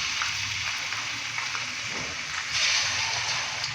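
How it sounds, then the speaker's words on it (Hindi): Chicken dropped into hot ghee in a pan while making Bombay chicken biryani, producing a steady, fairly quiet hiss and sizzle that holds evenly and swells slightly near the end. "अभी मैं इसी घी के अंदर चिकन डालूंगा।"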